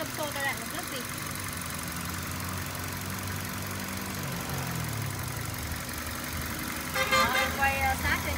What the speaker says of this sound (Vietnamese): Máy zin đấy chị nhá. Đó, máy nổ rất êm luôn